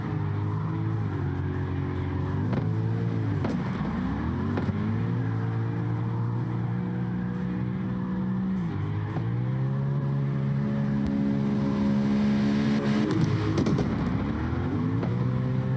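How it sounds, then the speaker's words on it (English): Mopar drift car engine roaring through a competition drift run, a loud sustained wail that rises and falls with throttle shifts and brief dips, continuous and close throughout. "but Chally is just holding that perfect smooth line in that Mopar ride."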